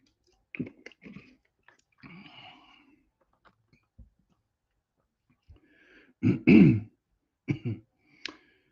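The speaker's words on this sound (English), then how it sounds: "Get a little bit of cough here." A few scattered throat-clearing sounds and short coughs, quiet at first, then a louder harsh cough followed by two smaller ones, close to the microphone.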